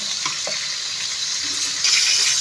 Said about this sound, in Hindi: और इसको फ्राई करेंगे।